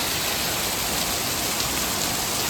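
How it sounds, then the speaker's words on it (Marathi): Heavy rain pours down in a dense, unbroken roar of hiss, loud and close, with no other sounds standing out. "पाऊस पण तेवढा जोरातच पडतो"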